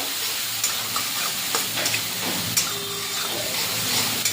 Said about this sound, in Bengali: এবার আদা আর পাকা কাঁচা লঙ্কা বাটা দিয়ে দিলাম এবার সামান্য একটু হলুদ দিয়ে দিলাম এবার মশলাটাকে একটু কষিয়ে নেব